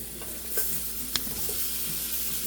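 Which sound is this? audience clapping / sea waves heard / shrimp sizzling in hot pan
shrimp sizzling in hot pan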